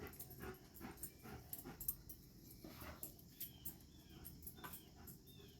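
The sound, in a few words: dog whimpering and panting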